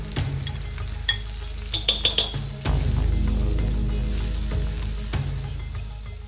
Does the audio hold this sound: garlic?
yes